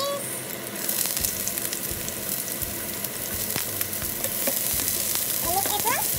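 Garlic and onions fry in olive oil with a steady, close sizzle and crackle, plus a few scraping stirs, while a voice speaks faintly.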